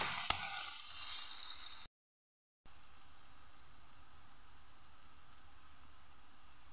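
Vegetables for fried rice sizzling and frying in a pan, a steady hiss that breaks off into a short silence before resuming at a lower, even level.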